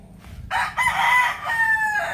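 Chickens and a rooster in a flooded backyard poultry yard: a rooster crows loudly and close in two long calls while hens cluck around it, over a steady wet background hiss.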